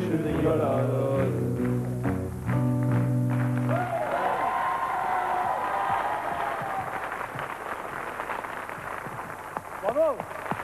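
A studio audience at a French TV special applauds after a song, a loud sustained wash of clapping that follows a fading musical passage, with voices speaking over it.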